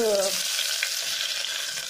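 Onions fry in a pan for ghee rice, giving a close, steady sizzle with a light stirring scrape throughout.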